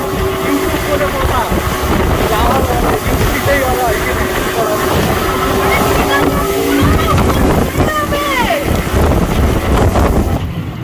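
A motorboat ride on open water with a loud, steady engine drone, wind buffeting the microphone and water rushing against the hull, continuous and close, with voices talking over it.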